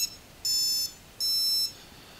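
Two high-pitched electronic beeps from an FUAV Seraphi GPS quadcopter powering on, each about half a second long, separated by a short pause over faint background hiss.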